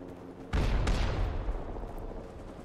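Machine gun fire in the game Rising Storm 2: Vietnam, a sudden loud volley of rapid shots followed by a second burst, then rumbling echoes fading over a battlefield background.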